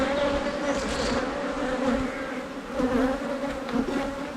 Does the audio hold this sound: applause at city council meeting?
no